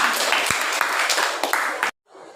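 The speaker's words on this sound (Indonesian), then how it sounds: "Beri tepuk tangan untuk kelompok 3." A classroom of students claps for a presenting group, brisk close applause that runs for nearly two seconds and then cuts off abruptly, leaving only faint room noise.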